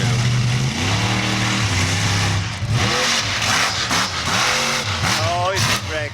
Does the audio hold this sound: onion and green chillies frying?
no